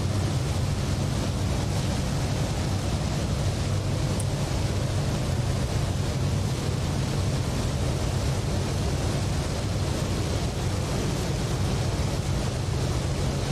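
Lockheed L-1049 Constellation piston engines roaring on the takeoff roll in Microsoft Flight Simulator 2020, a dense, steady, loud broadband drone with a low throb, unbroken from start to finish with no voices.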